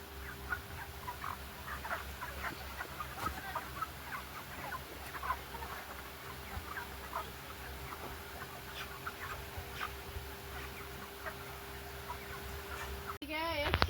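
Soft, scattered clucks and chatter of many chickens on a poultry farm, with a steady low hum underneath and a sudden louder rustle at the very end.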